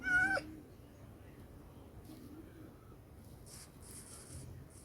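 A single short cat meow in the video game Minecraft right at the start, clear and close, followed by quiet background noise and faint rustling.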